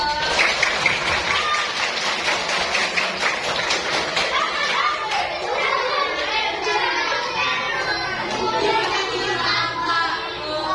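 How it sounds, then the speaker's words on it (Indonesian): Elementary schoolchildren clapping together during a disaster-awareness session at an Indonesian primary school, a sustained burst of many small hands applauding indoors with some voices mixed in. "Tepuk tangan dulu dong."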